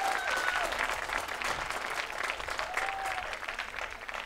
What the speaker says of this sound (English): let's just give him another round of applause from our hearts,